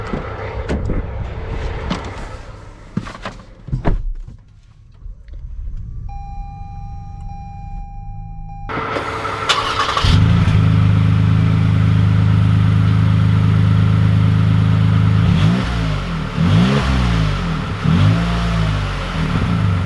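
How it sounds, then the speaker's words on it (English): A 2020 Lexus RX 350L SUV starts up and pulls away, its engine rising to a loud, steady drone heard from inside the cabin, with a few clicks and a brief tone before it sets off. "let's take this RX 350L out, see how it drives."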